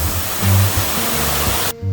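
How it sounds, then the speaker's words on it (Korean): The second waterfall in Igise valley, Daegu, swollen with muddy rainwater, pours with a loud, dense, steady roar before cutting off sharply near the end. "물줄기가 장난 아니게 내려오고 있습니다"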